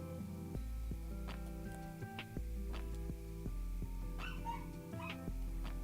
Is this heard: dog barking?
yes